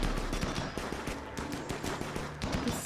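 Dense rapid gunfire crackles in a Rimworld colony battle, a continuous loud rattle of overlapping shots that barely lets up across the whole stretch.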